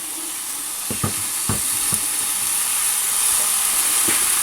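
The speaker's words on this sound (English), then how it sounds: "you should be able to hear the sizzle" Steady, loud hissing sizzle of sourdough waffle batter cooking in a hot waffle iron, with a few soft clicks and taps early on and no talking.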